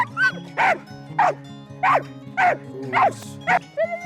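A police K9 dog barks close and loud, about eight deep, evenly spaced barks in a steady rhythm over low background hum.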